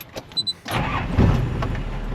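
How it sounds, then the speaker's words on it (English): A few short clicks, then a hot-wired 4WD engine cranks and catches, settling into a rough, steady run. "I've successfully hot-wired the car"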